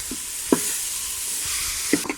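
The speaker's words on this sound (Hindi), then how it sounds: "इसे अब हम भूनेंगे इसमें।" Khoya roasting with carrots for gajar barfi sizzles steadily in a pan while a spoon scrapes and knocks against the metal in a few sharp, close strokes.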